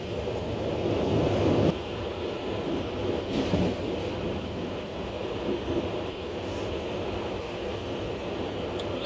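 A train on a mountain railway rumbles along steadily with a low rolling roar and wind buffeting, continuous throughout, with a sharper clatter near the start, near a tunnel.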